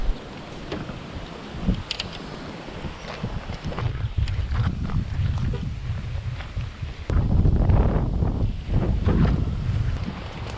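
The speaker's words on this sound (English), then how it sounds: "it's super windy out here" Strong gusting wind buffets the microphone outdoors in the mountains, a loud low rumble that swells and surges, heaviest toward the end, with no talking.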